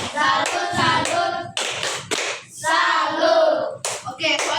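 Elementary school children at a classroom lesson chanting the rhythmic 'tepuk salut' clapping routine, voices calling out in unison between bursts of hand claps, loud and close with short pauses between phrases.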